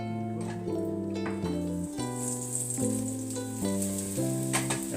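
Mushrooms fry with a pinch of salt in a pan, a steady bright sizzle under some stirring and light rattling, close and continuous with no talk.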